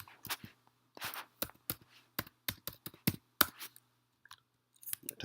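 Typing on a computer keyboard, a run of quick irregular clicks and clacks in short bursts separated by brief pauses, close and fairly crisp with no talking.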